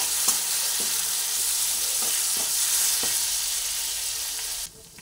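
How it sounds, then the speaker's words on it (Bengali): Tomato puree sizzles and fries in a pan for carrot kofta curry, with a steady hiss and several distinct scraping stirs of a spatula; the sizzle cuts off abruptly near the end. "এরপরে এর মধ্যে অল্প পরিমাণে টমেটো পিউরি দিয়ে দিলাম, দিয়ে এটা ভালোভাবে নাড়াচাড়া করে নিচ্ছি।"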